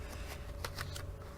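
A brief burst of cards being shuffled, a few quick papery flicks close by over a low hum.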